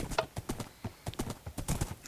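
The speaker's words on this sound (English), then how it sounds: "So here we're just going to run" Horse hooves gallop in a quick, steady clip-clop rhythm while a player rides across ice in an online game, the thudding beats clear and close with no talk over them.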